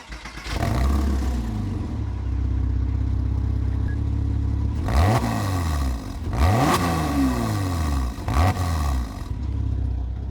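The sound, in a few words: Porsche flat-six engine starting and revving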